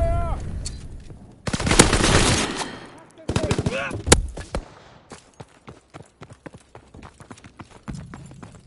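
Gunfire in a WW2 video game: a dense, loud volley of rapid shots early on, then a sharp burst and a string of separate, closely spaced shots, with brief voice-like tones between the bursts.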